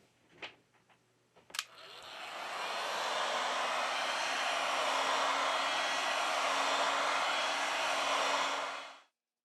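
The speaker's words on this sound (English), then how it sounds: "With the help of a heat gun, we apply 90 Celsius degrees during 4 minutes." Heat gun blowing a steady, loud airy roar onto a Xiaomi Redmi Note 9 Pro to soften the screen adhesive, running continuously for several seconds after a couple of faint clicks, then cutting off.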